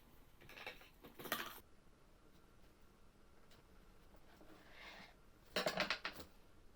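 Sandwich halves are set into a frying pan and an air fryer bin, making a few quiet metallic clinks and scrapes in two separate clusters, with a brief hush between them.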